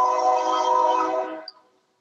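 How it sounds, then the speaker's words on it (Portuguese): A train rolls past, its loud, steady rumble and tonal horn-like drone running for more than a second before fading quickly into silence. "Demorou para passar o trem."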